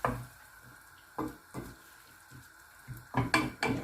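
A lid clatters onto a pot of simmering salmon broth, with a few sharp metallic knocks of lid against pot, close and moderately loud over a quiet kitchen background.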